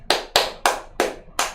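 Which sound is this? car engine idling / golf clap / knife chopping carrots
golf clap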